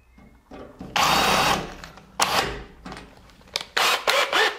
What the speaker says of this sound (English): Helps if you have the drill running in the right direction